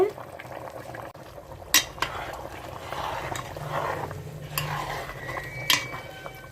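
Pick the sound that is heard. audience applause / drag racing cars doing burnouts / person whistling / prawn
prawn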